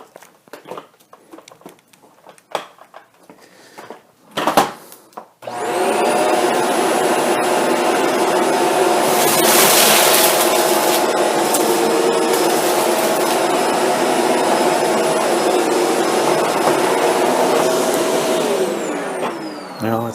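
After a few seconds of clicks and handling noises, a Shark Apex upright vacuum cleaner in hard floor mode roars on with a loud, steady whine that continues to the end.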